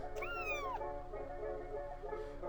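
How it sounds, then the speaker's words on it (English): A tiny cat in the video game Quadrilateral Cowboy gives one clear, drawn-out rising and falling meow, followed by softer, fainter mews over a steady game background hum. "Wait, the cat merchant has a tiny cat?"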